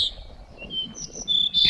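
Short high whistled bird calls in the high Sierra near Bodie, on the California-Nevada border at about 8,400 feet, a few thin tonal chirps over quiet open-air background, moderately near.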